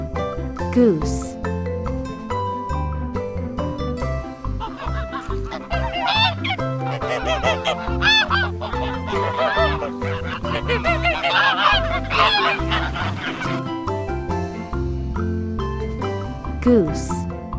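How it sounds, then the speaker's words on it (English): A farm goose honks repeatedly over a busy backdrop of music and other barnyard animal calls, loud and close. "goose"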